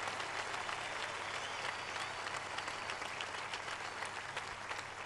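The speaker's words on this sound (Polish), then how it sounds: "Oklaski dla tych 50 lat teraz." Applause from a large gathering at a papal address marking fifty years, a steady, even rush of many hands clapping, heard from a distance and fairly quiet, with no voices over it.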